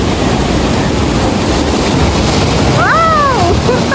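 Strong ocean waves crashing at a Philippine resort in Bani, Pangasinan, a loud continuous roar of surf with wind buffeting the microphone and a voice exclaiming briefly near the end.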